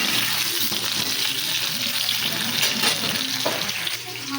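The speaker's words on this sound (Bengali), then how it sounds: "এই মাংসের জন্য আলু ভাজছি" Potatoes sizzle in hot oil for a mutton curry, a dense, continuous hiss close by with a watery, bubbling texture and no voice.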